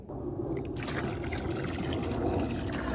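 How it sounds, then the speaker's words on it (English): A RevX drain pump discharges water through a hose in a strong, steady stream, a loud continuous rush of liquid with no letup. "Look how fast that water's coming out."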